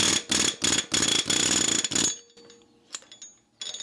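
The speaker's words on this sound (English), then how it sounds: "But the fun way is with a air hammer" A pneumatic air hammer fires in a rapid, loud rattling burst for about two seconds on the lug nuts of a Jeep, then stops, followed by faint clinks and a brief second burst.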